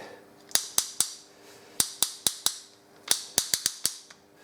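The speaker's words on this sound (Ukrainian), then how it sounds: "Гарно воно клацає, зажим працює." Sharp, loud clicks from the clamp mechanism of a jig for sharpening HSS wood router bits, fitted with a replaced bolt and spring, snapping in irregular bursts of single and paired clicks with quiet gaps between.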